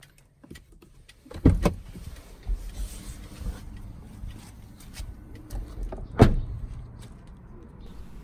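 Lexus RX 300 (2019) central door locks clunking under a new key, with a couple of sharp, close locking thumps spaced several seconds apart and faint handling noises between them.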